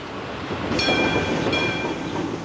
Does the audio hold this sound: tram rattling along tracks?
yes